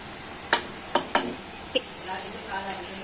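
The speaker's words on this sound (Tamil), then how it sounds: "இஞ்சி பூண்டு போட்டுக்கிட்டு நல்லா கிண்டிக்கலாம்." Ginger and garlic being stirred as they fry in a pan over low heat, with a few sharp scraping clacks of a spoon against the pan over a soft, steady sizzle.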